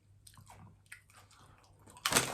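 Crunchy coated nuts eaten alongside beer, chewed with soft irregular crunching and wet mouth sounds close up, ending in a louder bite, with no talking.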